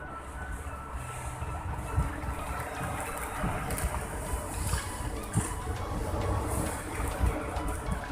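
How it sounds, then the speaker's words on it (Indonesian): Strong wind and rough sea waves beat against a rocky cliff shore at Nusa Dua's waterblow during a rising tide, a loud, constant roar of wind and surf with dull thuds of breaking water. "Anginnya cukup kencang"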